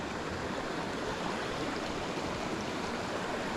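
A small, clear creek flows steadily nearby, a continuous broadband rush of running water with no pauses and no voices.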